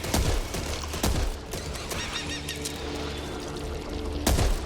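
Pistol gunfire in the shooter game Back 4 Blood: a few sharp shots spread across the clip, one near the start, another around a second in and a loud one near the end, over constant game background noise.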